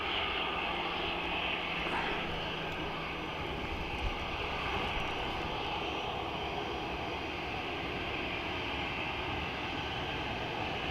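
An airplane engine at Dublin Airport roars in a broad, steady, loud wash of noise that stays constant throughout, with no clear voices.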